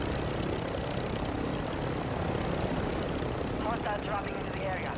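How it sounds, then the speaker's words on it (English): Aircraft in a video game flying close: a steady, loud droning roar of engines that fills the whole stretch, with voices chattering faintly beneath. "Those fucking planes are coming close."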